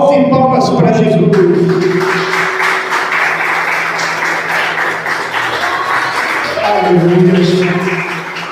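A church congregation claps their hands for Jesus in a broad, sustained wash of applause lasting several seconds. Voices and tonal sound come before and after it.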